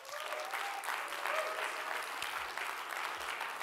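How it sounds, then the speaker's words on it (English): Audience applause closing the Sustainable Hospitality Challenge at FHS World 2024, a full, steady round of clapping from a large crowd, with a few low thumps and faint voices beneath it. "I'd like to ask for one last big round of applause."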